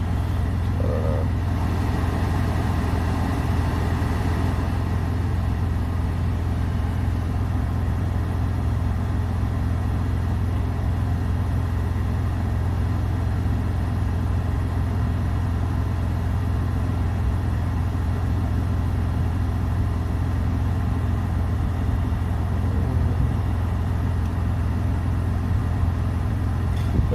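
A car engine idles steadily after a new radiator install, with a constant low rumble that runs alone, close by and unbroken, with no talk over it.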